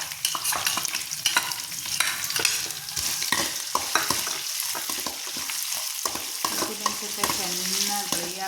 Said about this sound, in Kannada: ಚೆನ್ನಾಗಿ ಡ್ರೈ ಆಗೋ ಥರ ಹುರಿ